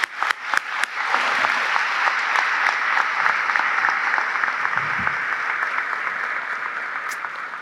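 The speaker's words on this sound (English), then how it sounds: "Big round of applause." A graduation audience at a high school ceremony breaks into loud, sustained applause, starting with a few scattered claps before swelling into a dense, steady wash of clapping that continues throughout.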